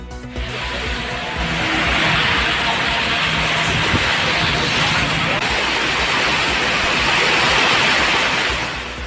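Heavy rain falling across Tiruvalur, Karur and Perambalur districts, a dense, steady, loud hiss that holds without a break throughout.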